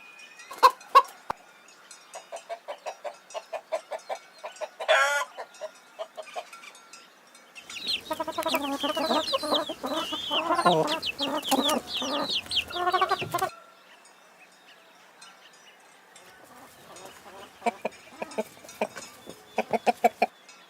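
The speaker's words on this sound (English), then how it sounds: "Chicken." Chickens on a farm, heard in bursts of rapid clucking and one long stretch of loud, dense squawking and cackling, then more clucking, all close and with no talking.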